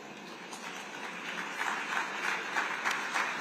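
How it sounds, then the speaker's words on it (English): An audience at a business forum applauds, a steady wash of many hands clapping that swells slightly toward the end, heard from a distance in a large room. "May we please rise and give ourselves a round of applause for sitting through this day."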